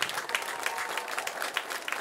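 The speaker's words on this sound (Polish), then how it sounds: "za pięć lat ogromne brawa dla nich" A short burst of thick, continuous applause from a concert audience celebrating the 50th anniversary of the Chełm cement works brass band.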